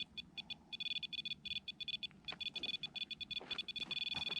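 A REM pod ghost-hunting device beeps in rapid, evenly pulsed high-pitched bursts that run almost continuously, with faint room noise and shuffling beneath.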